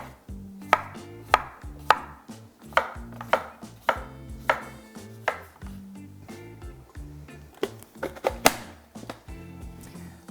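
A knife cuts cucumber into cubes for a spring salad, sharp, close chops landing on a cutting board in an uneven rhythm of roughly a dozen strikes.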